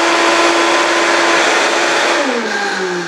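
A blender whirs loudly and steadily up close, mixing low-carb chocolate pudding, its motor pitch holding constant and then dropping and shifting as the mixture churns, with no voices.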